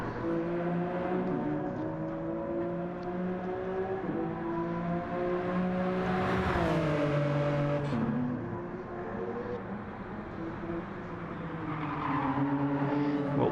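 Race cars in a racing video game pull away at the start of a 34-lap race, a steady layered engine drone that rises and falls in pitch as they accelerate and shift, continuous and fairly loud with no talking.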